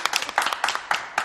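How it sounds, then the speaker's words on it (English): A small group of people clapping in quick, uneven bursts, close and fairly loud, with a few separate swells of applause over about a second. "Clap it up."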